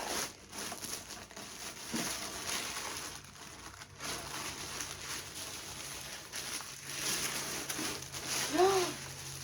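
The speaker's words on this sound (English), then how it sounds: "you can unwrap your bag" Leather bag unwrapped from tissue paper, with soft crinkling and rustling of paper close by in irregular bursts over a faint background hum.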